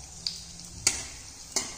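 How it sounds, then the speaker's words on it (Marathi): Sago potato chakli frying in hot oil in a wok: a soft, steady sizzle with three sharp pops spaced evenly through it. "कडईमध्ये आपलं तेल गरम झालेलं आहे, आता मी चकली टाकते त्यामध्ये, छान अशा तळून घ्यायच्या"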